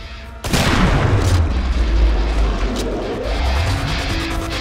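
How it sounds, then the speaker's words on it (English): Grenades blow up in the co-op shooter Killing Floor 2: a loud, deep boom hits at once and is followed by a long rumbling rolloff, with a smaller burst partway through. "Detonated three grenades under his ass."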